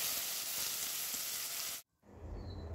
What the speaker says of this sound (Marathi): आता कढीपत्ता तेलामध्ये चांगला परतून घेतलेला आहे।